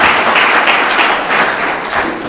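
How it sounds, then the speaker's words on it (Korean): A conference audience at a church education mission gathering gives a warm round of applause, a loud, dense, continuous burst of clapping with no talk. "한번 뜨거운 박수를 하나님께 감사합니다."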